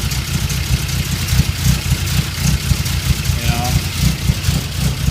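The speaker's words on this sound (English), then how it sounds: "So exhaust sounds good. Starts right up. Nicely tuned." A Triumph TR3A engine idles steadily with a low, throbbing exhaust rumble, close by and fairly loud, holding an even pace throughout.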